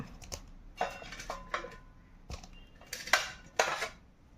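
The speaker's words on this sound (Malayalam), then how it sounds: "ആ പുഴുങ്ങി വെച്ച കോളിഫ്ലവർ ഞാൻ ഈ മാവിലേക്ക് ഇട്ട് കൊടുക്കണേ. നന്നായിട്ടൊന്ന് ഇളക്കി കൊടുക്കുക" Boiled cauliflower is stirred into rice-flour batter. A spoon knocks and clinks against the bowl in a string of irregular, close, sharp taps, with no talking.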